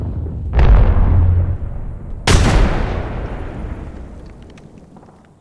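Two loud frag grenade explosions in the Apex Legends video game, the first a deep rumbling blast and the second a sharper, brighter burst about two seconds later, each trailing off into a long decaying rumble.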